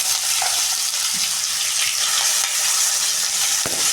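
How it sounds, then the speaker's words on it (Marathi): Mustard seeds, cumin and spices sizzling in hot oil for a vegetable curry: a dense, continuous, close hiss and crackle throughout, with a few faint spoon stirs. "मोहरी टाकणार आहोत आपण जिरं टाकणार आहोत तिथे आपण मसाला टाकणार आहोत"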